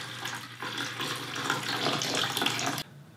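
Water-propylene glycol liquid draining from an opened ball marker, a steady gushing splash that runs continuously then cuts off abruptly near the end.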